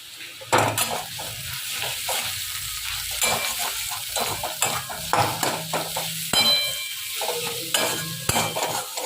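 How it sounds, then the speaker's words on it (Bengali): Onion, ginger and garlic fry with mustard, cumin powder and coriander powder in a pan, sizzling steadily under repeated scraping stirs and clinks of a utensil against the pan, close up and with no talk. "পেঁয়াজ আদা রসুনগুলোকে আমি ভেজে নিলাম"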